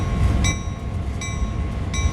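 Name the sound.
GP38-2 locomotive moving in the video game Train Sim World 2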